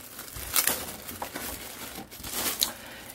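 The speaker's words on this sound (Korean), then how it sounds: "이렇게 비닐에 포장되어 있고요. 이렇게 뜯어주시면" Plastic film wrapping around a Transformers Bumblebee figure stand is torn open, giving close, busy crinkling and ripping that goes on unbroken with a few louder crackles.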